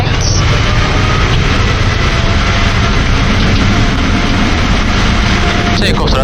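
Boeing 747 jet engines spooling at takeoff thrust on a runway at New York JFK Airport, a loud, steady broadband roar filling the whole clip with a deep rumble, alone.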